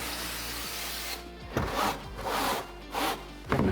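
Dirt is wiped off the upper fairing of a Ducati 750 F1 with brake cleaner and a cloth, giving a few soft, irregular rubbing swipes close by over a quiet background.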